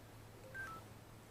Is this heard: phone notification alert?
yes